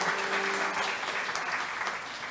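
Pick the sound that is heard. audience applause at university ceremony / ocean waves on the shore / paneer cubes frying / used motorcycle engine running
audience applause at university ceremony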